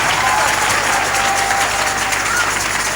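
A church congregation claps continuously, a dense and loud wash of applause with faint crowd noise beneath it.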